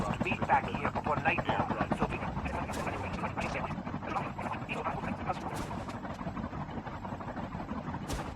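A helicopter in the mobile shooter COD Mobile drones with a steady rotor thrum and engine whine throughout, held at a constant level beneath game effects and occasional sharp sounds.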